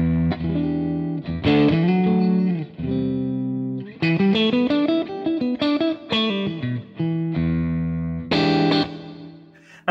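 An electric guitar plays a clean tone through an Amplified Nation overdrive reverb pedal, loud and alone, with ringing chords and single-note runs that decay into a reverb tail between phrases.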